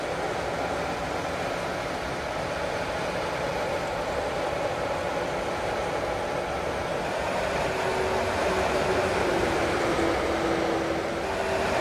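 A Class 101 diesel multiple unit train passes outside between Manchester and Liverpool, a steady broadband rumble and rail roar held at a constant level for about twelve seconds, swelling slightly near the end, with a faint tonal hum and no talk.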